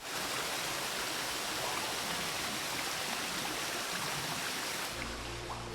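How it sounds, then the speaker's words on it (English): A small waterfall in The Witcher 3: Wild Hunt, a loud, steady rushing roar of falling water filling the whole clip, with a low rumble coming in at the very end. "Look at this beautiful little waterfall here."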